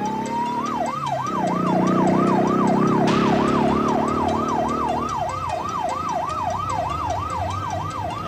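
A police siren wails in a rapid, rising-and-falling yelp cycle, loud and close, over the rumble of a vehicle engine and street traffic.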